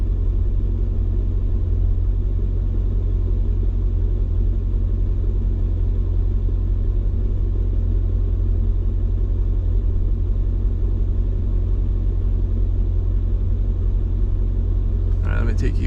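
A Mercedes C55 with the M113 engine idles while running rich, a steady low rumble holding evenly and close for the whole stretch, with a brief burst of noise right at the end.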